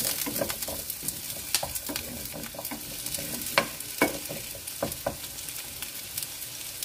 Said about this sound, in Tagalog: So, igigisa natin siya. Igigisa natin siya dyan.